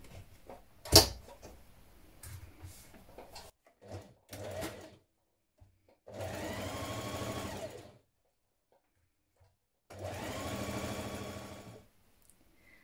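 A sewing machine stitches a blouse seam at a 1.5 cm allowance: two steady, even runs of a few seconds each, close by, with fabric handling, clicks and thumps between them, and no talking.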